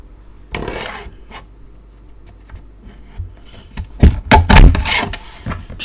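A paper trimmer slices through a small paper label while crafting: a few quiet scrapes and taps, then a louder rasping cut near the end, close and without talk.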